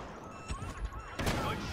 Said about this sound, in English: Now here's the sound of a grenade.